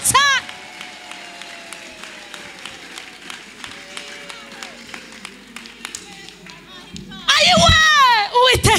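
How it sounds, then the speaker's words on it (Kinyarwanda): A church congregation breaks into loud clapping and cheering near the end, after a long stretch of quieter sound beneath a speaking voice. "Tumukomere amashyi menshi cyane"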